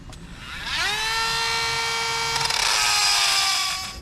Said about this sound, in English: take a 32mm nut on a 1/2 inch impact and back her off